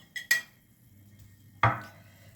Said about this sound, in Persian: اول گوشتمون رو میریزیم